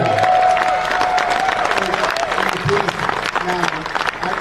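An audience at a summer awards ceremony claps and cheers, a continuous dense crowd applause with voices mixed in throughout.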